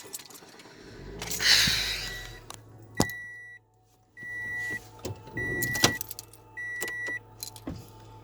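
A car close by on a nighttime walk outdoors, with a rushing sweep early on followed by repeated short electronic beeps, clicks and thumps, fairly near and moderately loud, with no talking.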